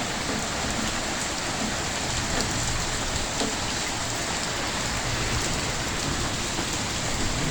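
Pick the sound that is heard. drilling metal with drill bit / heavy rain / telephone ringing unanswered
heavy rain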